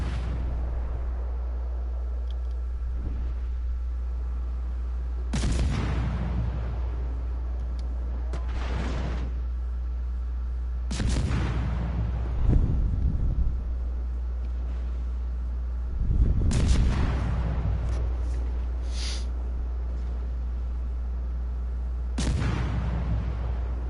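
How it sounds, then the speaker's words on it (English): Torpedo explosions and naval gunfire from a warship battle in a PS4 video game come as four or five separate booming blasts spaced a few seconds apart, each one decaying slowly over a steady low engine drone. "Let's watch them torpedoes."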